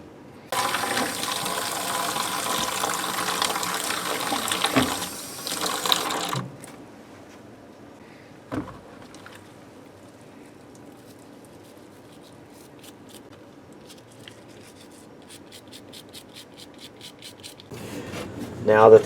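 Rubber control pads from an HR-16 drum machine sloshed and rubbed in a sink of water with a drop of Dawn dish soap. Steady splashing runs several seconds, then near silence with a single knock, and faint handling noise returns at the end.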